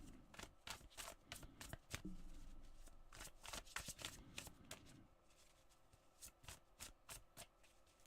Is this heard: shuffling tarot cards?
yes